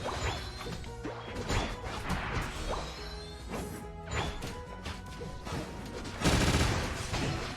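Rapid gunfire and crashing impacts from a Pokemon Unite match, loud and continuous with bursts of heavy smashes and whooshes, swelling into a dense, louder burst near the end; no talking.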